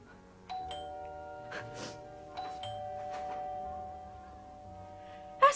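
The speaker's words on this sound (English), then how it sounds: "That's a bell." A doorbell chimes indoors in a drama scene, a struck tone at about half a second that rings on and decays across several seconds, with a few soft knocks and rustles beneath and a sharper thump at the very end.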